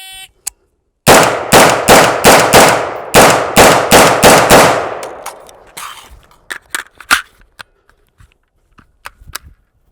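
A Brownells BRN-180 rifle fires in a shooting drill, with a rapid string of about ten sharp, loud shots close by, then clicks and handling noises from a reload.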